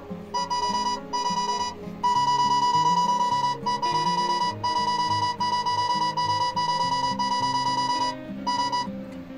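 A smartphone metal detector app sounds a steady electronic tone through the phone's speaker, a sustained beeping with short gaps and a few brief breaks, playing alone over a low fluctuating background hum.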